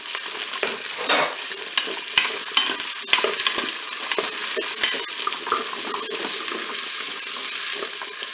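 Onions brown in a Cookeo multicooker pot, giving a close, loud sizzle broken by frequent scraping stirs and small metallic clicks of a spoon against the bowl.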